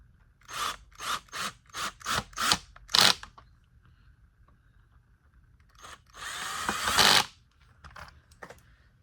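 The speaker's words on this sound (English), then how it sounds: "And then screw these two right back in" A power screwdriver drives screws back into a Bissell Cleanview Rewind Pet vacuum cleaner, about seven short close whirring bursts in steady rhythm, then a pause and one longer run followed by a few brief spurts.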